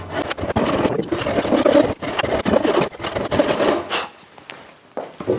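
A hand saw rasps back and forth through wood in quick, repeated strokes, cutting a joint for traditional Korean wooden lattice joinery, close and loud, with short pauses between bursts.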